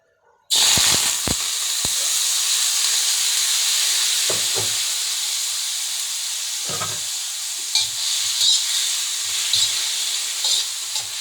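Squid and mushrooms stir-fry in hot oil for a basil stir-fry with minced pork, giving a steady loud sizzle with scattered clatters of a utensil against the pan throughout.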